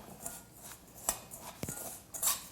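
Seasoning being stirred into breadcrumbs in a bowl for oyster poppers at an outdoor kitchen, soft scraping and scratchy rubs with a few light clinks of a utensil, close and quiet.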